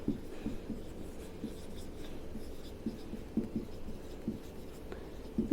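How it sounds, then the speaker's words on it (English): A pen scratches out notes for a biology lesson, a soft continuous scratching with small rhythmic strokes, close and quiet with no speech. "let me write everything"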